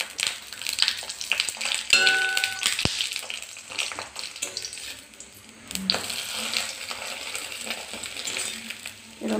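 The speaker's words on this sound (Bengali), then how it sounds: "ভালোভাবে চেপে চেপে ভেজে নেব" Snack pieces frying in hot oil while being pressed down, giving a steady crackling sizzle with clinks and scraping of a utensil, busy and close throughout.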